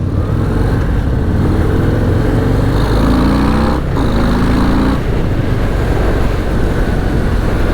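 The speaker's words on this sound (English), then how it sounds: "117 cubic inch Milwaukee 8 provides a plenty of power" Harley-Davidson Breakout with a 117 cubic inch Milwaukee-Eight V-twin, 2023 model, out on a ride: a steady loud engine drone blends with wind rush, holding level throughout and lifting briefly in a rev near the middle.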